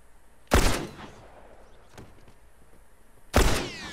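Gunfire in the video game The Last of Us: two sharp shots a few seconds apart, each with a quick decaying tail, separated by quiet ambience and faint clicks.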